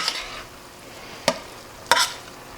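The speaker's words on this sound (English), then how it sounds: "because I'm stirring it" A spoon stirs spicy basil chicken pasta in a pan, two sharp scrapes against the metal rising above a faint low sizzle.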